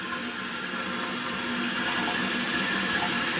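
Water rushes steadily into a toilet tank as it refills after a bidet installation, a continuous hiss and trickle at moderate level with no talk.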